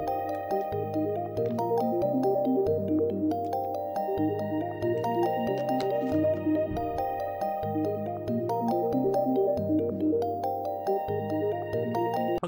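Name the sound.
drum loop beat made in FL Studio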